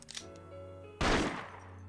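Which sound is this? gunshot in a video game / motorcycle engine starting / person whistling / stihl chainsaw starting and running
gunshot in a video game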